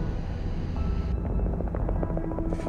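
A helicopter flies in icy polar conditions while taking on ice, its rotor thumping steadily with a heavy engine drone that stays loud and continuous, with no voices.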